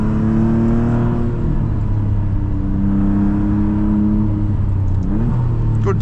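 A 2026 Maserati MCPura engine revs high and loud from close inside the car, holding steady rising tones before a quick rev change near the end.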